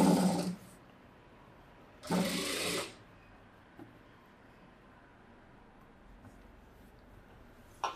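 Sewing machine stitching a princess blouse with a front-open collar neck, in two short loud bursts of running stitches separated by a quiet pause, close by and with no talk.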